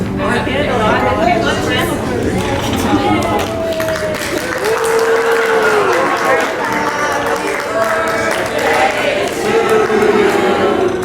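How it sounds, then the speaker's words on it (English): A crowd at a milestone birthday celebration claps and cheers together, steady and loud, with voices chattering over the applause throughout. "Everybody, round of applause."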